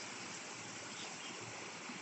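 Water flows steadily along a man-made creek in a park. The rushing is a soft, continuous wash with no pauses and no voices over it.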